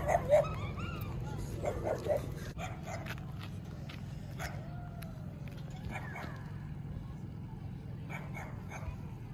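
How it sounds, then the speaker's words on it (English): A dog heard outdoors on a walk gives a few short barks and yips near the start, then goes quiet under steady background noise. The barks are moderately close and fairly faint. "Dog."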